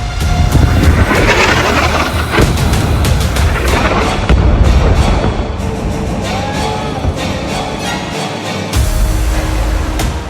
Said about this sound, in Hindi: स्मार्ट बम से पिन पॉइंट हमले में भस्म हो गई बिल्डिंग।